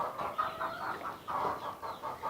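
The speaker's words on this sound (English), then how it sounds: "we are going to take them to the chickens." Soft, continuous clucking and murmuring from a group of chickens, fairly faint and somewhat distant, with overlapping calls rising and falling across a couple of seconds.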